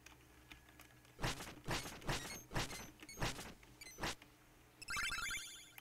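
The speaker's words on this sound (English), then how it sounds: "I have to, like, press the keys a bit." Computer keyboard keys pressed while playing Shovel Knight: a run of about seven loud, close clacking bursts of key presses, followed by a brighter rattling patter of game sound at the end.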